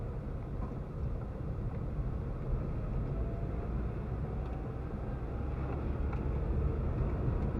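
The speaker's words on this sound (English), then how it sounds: "Vehicles coming the other way" A steady low rumble of vehicles on a snowy road, with engine and tyre noise droning continuously and no distinct passes standing out.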